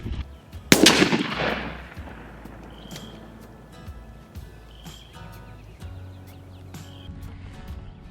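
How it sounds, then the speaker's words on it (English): A shotgun fires a turkey load, lead or tungsten, at an outdoor range: one sharp loud blast that rings and decays over a second, followed by quiet ambience with faint birds. "I backed up to 40 yards and I'm gonna take a couple shots."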